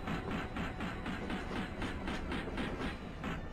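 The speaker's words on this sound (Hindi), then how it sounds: "हाँ, ये WDG-4 था और ये ऑयल टैंकर फ्राइट 10 है" WDG-4 locomotive hauling an oil tanker freight train past at speed in the Open Rails simulator, a quiet rhythmic clickety-clack of wagon wheels repeating evenly over the rail joints, heard alone.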